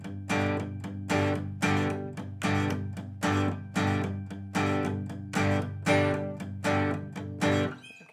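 Acoustic guitar strumming the rhythm of a song at a faster speed: a steady even pulse of bright full chords, about two strums per second, close and loud with no talking.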